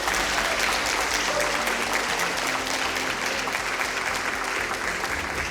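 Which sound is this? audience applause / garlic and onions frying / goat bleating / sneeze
audience applause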